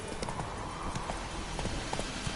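Roach, the horse in The Witcher video game, gallops with quick rhythmic hoofbeats, steady and moderately close over a soft ambient bed.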